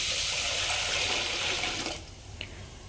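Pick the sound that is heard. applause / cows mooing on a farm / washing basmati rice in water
washing basmati rice in water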